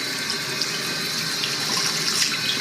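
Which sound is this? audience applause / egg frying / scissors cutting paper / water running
water running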